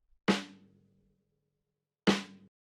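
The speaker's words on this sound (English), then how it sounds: "And then I have 2 snares." Two snare drum hits from Spitfire Audio LABS, played one after the other about two seconds apart. Each is a sharp crack with a short ringing body, close and clean with nothing else sounding.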